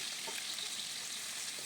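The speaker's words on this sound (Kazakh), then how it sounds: "пиязды салып, жақсылап қуырып аламыз" Onions frying in a pan, giving a steady, bright, close-up sizzle that hisses on evenly without pause, with no voices.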